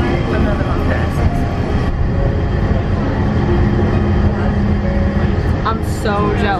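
A Disney World monorail at Magic Kingdom runs with a steady rumbling drone and faint rail clatter throughout. Talk is heard over the running noise.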